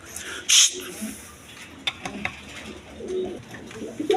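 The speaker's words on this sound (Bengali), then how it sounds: "এখানে এক পেয়ার গিরিবাস কবুতর আছে হাই ফ্লাইং গিরিবাস কবুতর" A pair of high-flying Giribaz pigeons coo softly close by, the low murmuring calls repeating on and off, interrupted by one brief sharp hiss or rustle.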